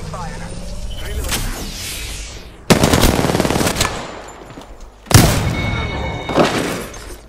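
Heavy automatic weapon fire from the Wingman and R-99 in Apex Legends, with loud rapid bursts at about 2.7 and 5.2 seconds over continuous battle noise and echoing shots.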